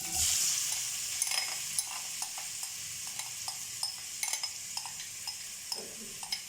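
Marinated chicken for chicken mughalai sizzles in a pan while being stirred, a steady frying hiss broken by regular clinking scrapes of a spoon against the pan, close up with no talking.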